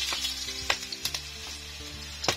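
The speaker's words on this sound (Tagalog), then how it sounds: "minumpisahan ni Atat pagluto ng adobong pusit. Siyempre, bawang muna" Garlic sizzles in a pan as squid adobo cooking begins outdoors by the sea, a soft steady hiss broken by sharp pops and clinking stirs, with a low motor-like hum underneath.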